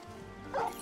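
A dog gives a single short bark-yip in the video game Final Fantasy XVI, a brief, fairly faint woof over quiet in-game ambience.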